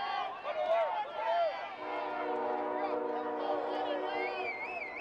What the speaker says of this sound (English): And yes, the trains are ever present in Northwest Indiana.